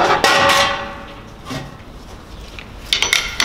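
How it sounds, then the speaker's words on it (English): Metal tools strike and scrape against flanges being removed from a BMW E36 188 mm limited-slip differential, with a sharp knock at the start, softer clinks in the middle and a burst of close metallic taps at the end. "Let me try to remove the flanges."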